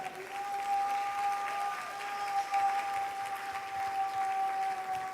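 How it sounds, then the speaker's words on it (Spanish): A congregation in a church service claps steadily in a sustained, even round, with a faint tonal hum running underneath. "alguien dele un aplauso a él."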